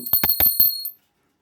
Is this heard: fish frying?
no